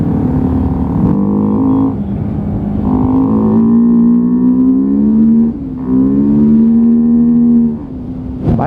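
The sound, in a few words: motorcycle engine echoing inside an underpass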